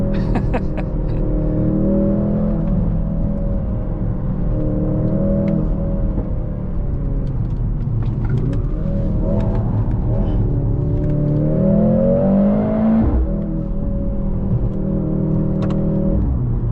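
A powerful performance car drives hard through corners, its engine droning close and low, then climbing in a long rising rev before a shift cuts it back. A brief voice shows near the start over the steady engine note.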